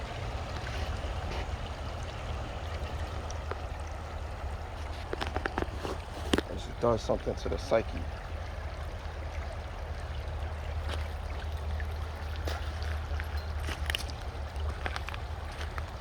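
River stream water flowing in a continuous low rushing wash, with a voice speaking over it and a few brief rustles and footstep-like knocks in the middle.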